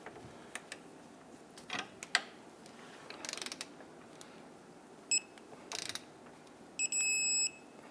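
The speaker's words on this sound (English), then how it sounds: "So now let's go ahead and tighten down and torque our outward bolt." Ratcheting clicks of a torque wrench tightening the outboard rear lower control arm bolt on a 2011-2023 Dodge Charger, torqued to 74 foot-pounds; several short bursts of ratchet clicks, close and moderately loud, followed by a brief beep-like signal near the end.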